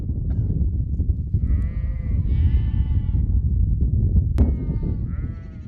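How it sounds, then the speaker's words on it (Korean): Goats and sheep in the Jordanian desert bleat repeatedly and nearby over a busy rustling background of moving livestock, several overlapping calls across the span. "염소와 양들이 풀을 뜯으러 나갈 준비를 하는 모양입니다."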